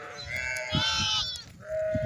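A flock of sheep bleats in the forest pasture as lambs return to their mothers, several overlapping wavering cries close by, one after another.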